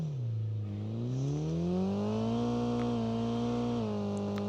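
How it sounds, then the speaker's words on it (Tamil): A vehicle engine in the mobile game Call of Duty Mobile revs and drops, then holds a steady whirring drone as it approaches, loud and alone. "வண்டி வருது."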